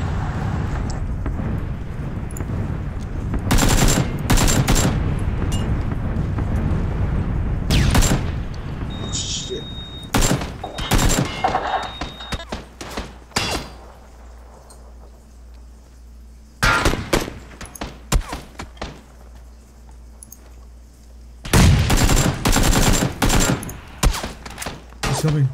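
Gunfire in the video game PUBG: repeated loud bursts of automatic fire and single shots, clustered in bursts across the clip with quieter gaps, mixed with players talking over voice chat.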